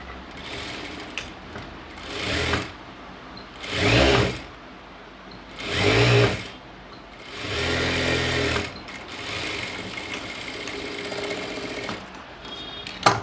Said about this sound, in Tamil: இப்போ வச்சுட்டு கீழே ஒரு ஹாஃப் இன்ச் ஸ்டிச் பண்ணிடலாம்.